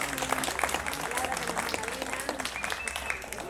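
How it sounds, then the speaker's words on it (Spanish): Wedding guests at a celebration in Lima clap together in a steady patter of applause, with voices and music mixed underneath throughout. "Palmas."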